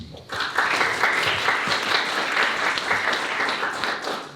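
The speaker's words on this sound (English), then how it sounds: "Let's give him an applause." An audience applauds after a lecture speaker is introduced at a Transylvania lecture event, a steady, dense wash of many hands clapping that holds evenly for several seconds.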